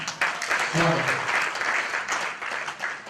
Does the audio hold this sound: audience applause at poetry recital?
yes